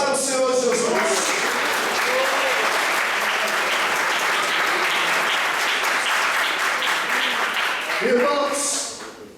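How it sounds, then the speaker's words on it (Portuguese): A church congregation claps loudly and steadily for several seconds, with voices at the start and end before the applause fades out. "Palmas para o Senhor Jesus."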